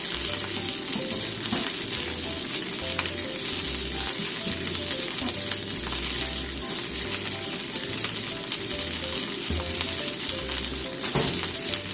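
Eggplant fries in a pan for a simmered Japanese nibitashi dish, giving a continuous, close crackling sizzle with scattered pops that holds steady without any talk.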